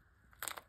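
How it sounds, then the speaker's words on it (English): A cat crunches on a bird skull, a quick cluster of two or three faint, close crackling bites lasting well under a second against quiet surroundings. "Is it a crunchy bird? It's the bird skull. You just eat the brains and everything, huh?"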